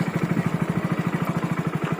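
A motorcycle heads down through a cut on the Bharat Mala road with a close, steady, rapidly pulsing engine thrum.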